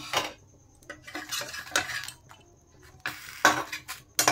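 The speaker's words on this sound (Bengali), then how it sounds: "ঢাকনা উঠিয়ে দেখে নেব" Metal pan lid lifted and set down on a cooking pan during butter chicken preparation, several sharp clanks and clinks spaced across a few seconds, close and moderately loud with no talking.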